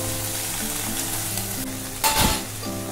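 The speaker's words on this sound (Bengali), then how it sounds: "এই যে আমার কষছে আস্তে আস্তে" Food sautéing in a pan gives a continuous steady sizzle, with a louder burst of crackling near the end; no one speaks.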